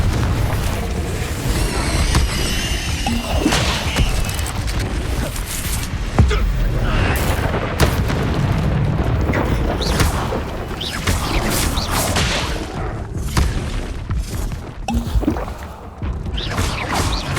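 Confringo blasting spell explosions in the video game Hogwarts Legacy, loud booms and crashes repeating through a hectic battle with other spell effects, while a voice talks over the action.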